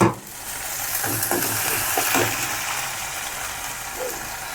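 Ginger paste and onion paste hitting hot oil in a pan while iftar food is prepared, a sharp burst of sizzle settling into steady frying with a few spoon scrapes, no talk.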